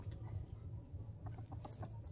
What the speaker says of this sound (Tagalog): At ayan ang mga manok.